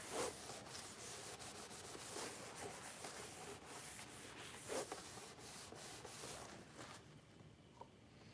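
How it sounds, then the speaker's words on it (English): Dirt being rubbed by hand onto the painted surface of a toy, a steady close scratchy rubbing with short strokes that continues throughout. "Get some dirt from outside, rub it on the paint."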